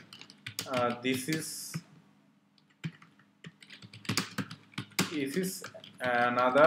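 Typing on a computer keyboard while writing HTML code, in sparse clicking bursts between stretches of someone talking in Bengali.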